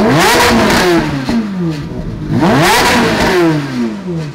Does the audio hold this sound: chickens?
no